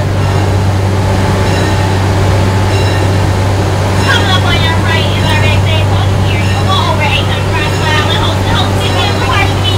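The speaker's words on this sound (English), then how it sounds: "Are we on a train?" A steady, loud rumble and hum of a train riding on rails fills the cabin interior, with people talking over it throughout.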